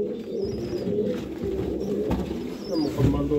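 Black-faced Sialkoti pigeons cooing softly in a loft, low throaty coos repeating under faint background noise, with someone talking nearby.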